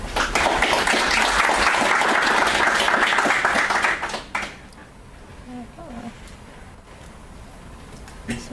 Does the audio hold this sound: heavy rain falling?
no